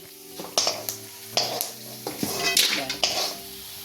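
Mace frying in oil in a pan during homemade masala preparation, with clattering utensil knocks against the vessel and a bright sizzle rising and falling across several strokes.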